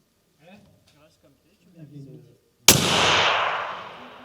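A single loud .338 Lapua Magnum rifle shot fired at an 800-metre target, a sharp blast that rolls off into a long fading rumble after someone speaks quietly.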